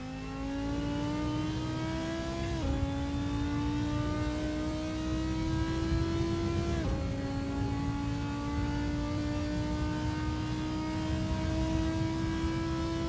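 Audi R8 GT4 racing engine at Silverstone in the Assetto Corsa video game, a steady loud drone rising in pitch through the gears with two quick upshifts, alone without talk.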